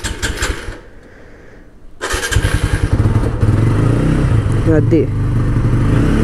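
A rain-soaked motorcycle is started with the choke on: someone speaks briefly, the starter churns, and then the engine catches at about two seconds and settles into a loud, steady idle close by.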